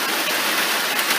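Steady rain falling outdoors, a loud, dense, even hiss of drops with no breaks and no talking.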